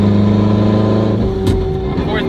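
A 1000-horsepower all-wheel-drive Honda RSX pulling through the gears from inside the cabin, its loud engine droning steadily before a quick shift drops the pitch midway, then building again.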